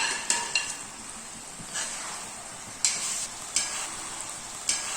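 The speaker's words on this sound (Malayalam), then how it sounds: "ഇത് ഈ മസാലയൊക്കെ മേലെ ഇട്ട് നന്നായിട്ടൊന്ന് മിക്സ് ചെയ്യണം" Fried chicken is mixed into biryani masala in a pot, with several distinct spoon scrapes and knocks against the metal spaced a second or so apart over a faint low sizzle.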